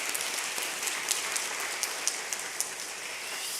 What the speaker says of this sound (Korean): 한번 우리 축복의 박수 해주시면 감사하겠습니다.